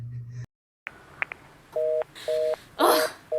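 A telephone call put through by an operator in an old radio drama: a few clicks after a brief silence, then repeated, evenly spaced ringing-tone bursts on the line with no voices.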